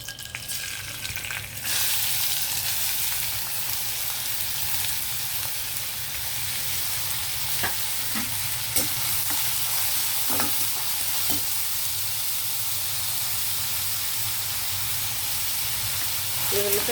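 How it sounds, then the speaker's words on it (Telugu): Finely chopped onions fry in hot oil, filling the space with a loud, continuous broadband sizzle that holds steady throughout. A few sharp stirring clicks and scrapes cut through it now and then, close up, with no talking. "ఆయిల్ హీట్ అయిన తర్వాత మనం ఆనియన్ వేద్దామండి."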